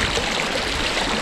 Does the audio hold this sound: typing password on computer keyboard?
no